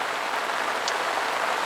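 Heavy rain pelts the surface of a specimen fishing lake, a dense, steady hiss of countless drops sustained throughout with no voices.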